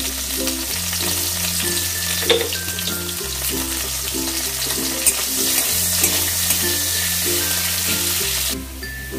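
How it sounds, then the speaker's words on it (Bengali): Pieces of bitter gourd fry in hot oil with a pinch of salt for shukto, giving a steady, loud sizzle that runs throughout, with a repeating tonal pattern in the background. "এবার এই তেলের মধ্যেই আমি উচ্ছেগুলোকে দিয়ে দেবো। উচ্ছেগুলো দিয়েও একটুখানি নুন দেব, দিয়ে ভালো করে ভেজে নেব।"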